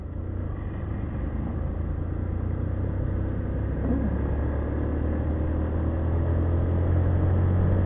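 A big truck passes on a morning road, a steady deep engine rumble with a low drone, heard close and continuous for several seconds without voices.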